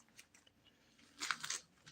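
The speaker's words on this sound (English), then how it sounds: "I need better scissors." Small scissors snip deer hair at a fly-tying bench: faint, quiet crisp cuts, with a cluster of louder snips near the middle, and no talking.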